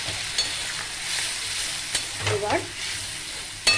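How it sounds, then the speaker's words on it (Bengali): Crushed spice paste with chilli and turmeric stir-fries in oil for an egg masala curry, a steady close sizzle broken by a few spatula knocks and scrapes, with a brief spoken word near the start. "ভালো করে কষিয়ে নেব, যতক্ষণ না তেল ছাড়বে ততক্ষণ আমি এটাকে কষিয়ে নেব।"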